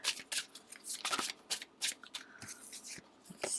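A deck of tarot cards is shuffled by hand in quick, crisp riffling bursts, close and clear, with short pauses between the rapid flurries of card slaps.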